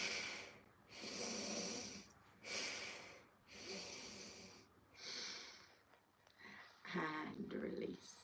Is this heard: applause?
no